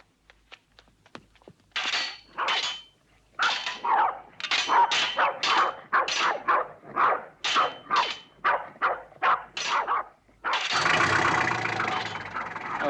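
Dogs at a house barking repeatedly and loudly at close range, a long rapid series of sharp barks, followed by a burst of broad noise.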